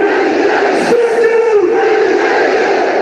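A large cricket stadium crowd at an India versus Oman match, mostly Indian supporters, roars in a loud, sustained wash of cheering with a rising collective shout in the middle.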